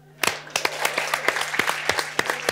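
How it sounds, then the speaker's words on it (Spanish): An audience at a live show claps and applauds: a burst of dense, moderately loud clapping starts abruptly and keeps going steadily, with sharp individual claps standing out. "Un aplauso para los que no."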